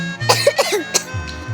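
A person gives a few short, close coughs in a quick burst, with some throaty vocal sounds among them, loud and alone with no other noise.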